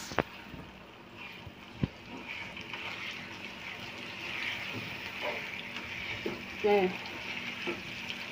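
Ginger garlic paste fries in a pan in a home kitchen, giving a quiet, steady sizzle with scattered clinks and stirring scrapes, and a voice hums briefly over it.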